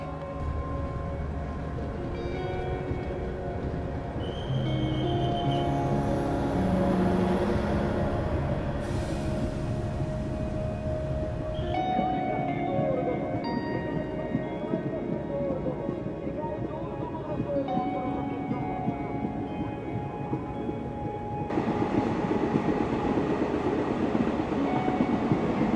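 A passenger train rumbles and clatters along the Srinagar–Banihal line in heavy snowfall, heard from inside a carriage as a continuous near drone with shifting tones, while passengers talk.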